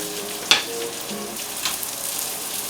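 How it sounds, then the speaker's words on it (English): Onions fry in a pan for Spanish rice, a continuous hissing sizzle with a sharp crackle as they go in and occasional light stirring taps, no talk. "I'm going to go ahead and put my onions in that"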